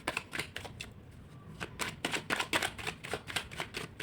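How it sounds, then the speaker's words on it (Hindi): Tarot cards are shuffled and pulled from a deck at close range, a run of crisp papery riffles and flicks in a steady rapid rhythm. "3 कार्ड्स मैं टैरो से निकालूंगी आपके लिए।"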